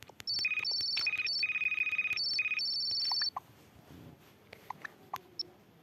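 A telephone rings with a repeating electronic trill in short bursts for about three seconds, close and clear, then stops, leaving quiet room noise and a few light clicks.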